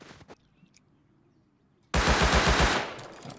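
AK rifle gunfire in the Rust video game, a loud close burst of rapid automatic shots in a fast even rhythm lasting about a second, ending a near-silent stretch after a brief earlier noise.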